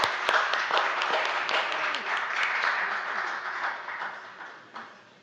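An audience at a poetry evening in a wine bar claps, a dense burst of applause that stays steady and then thins and fades toward the end.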